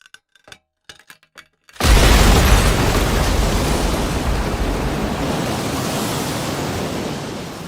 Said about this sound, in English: 1 million liters of water rush through the hotel lobby like a tsunami.